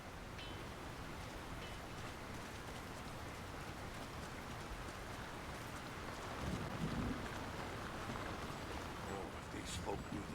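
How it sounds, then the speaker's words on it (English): Steady rain falls on a town in the game Lord of the Rings: War in the North, a soft, continuous patter that stays faint and even throughout. "Who could live in a town where it's always raining?"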